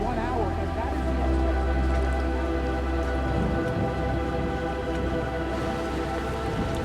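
Heavy tropical downpour in South Florida drums steadily and densely on surfaces, a constant loud rush of rain with a low rumbling undertone and no voices.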